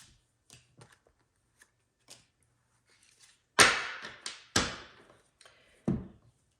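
A Rider-Waite tarot deck being shuffled and handled up close, with soft scattered card taps and slides leading into a few louder riffling bursts, no talking.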